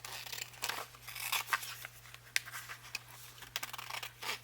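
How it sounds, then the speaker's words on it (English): Scissors snip through paper while someone cuts out pieces for angled pockets, making a quick series of close, crisp crunching cuts and tearing rasps with no talking. "I should have got out my bigger scissors."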